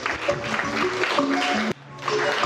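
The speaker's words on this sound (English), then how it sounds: "Let's keep the round of applause going." Wedding guests clap for the bride at a reception, a dense applause wash over music with a steady beat and held tones, briefly dropping out near the end before resuming.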